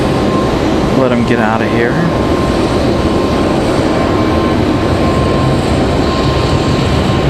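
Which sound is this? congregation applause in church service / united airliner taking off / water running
united airliner taking off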